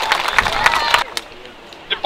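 Crowd applause at an outdoor Keep Them Rolling Final Push 2015 event in Doetinchem, a brief burst of clapping that breaks off after about a second, leaving near silence before a short sound at the end.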